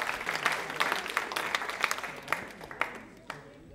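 A studio audience at a Hindi television quiz show applauds steadily, a dense, sustained wash of clapping that fades toward the end, with a host's voice over it.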